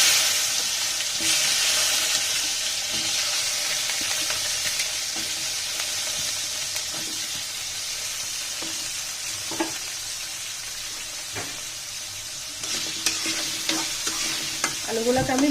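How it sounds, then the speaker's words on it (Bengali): Potatoes with a little turmeric frying in very hot oil on a raised flame, a bright steady sizzle with periodic spatula scrapes and knocks against the pan, alone without speech. "আলুগুলোকে আমি ভেজে নিব"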